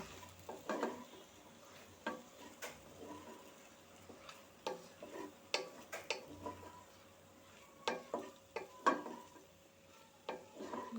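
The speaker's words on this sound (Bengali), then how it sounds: "কর্নফ্লাওয়ার জল দিয়ে গুলিয়ে রেখেছিলাম সেটি এখন ঢেলে দিব ঢেলে দিয়ে নেড়ে দিব" Cornflour slurry poured into homemade pasta and stirred in a pan, quiet with scattered clicks and scrapes of a spoon against the pan over faint sizzling, no speech.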